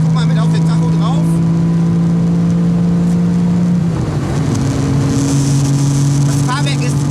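A Porsche 959 engine pulls hard under acceleration from inside the car, a loud steady drone that rises in pitch, dips at a gear change and climbs again, with someone talking over it.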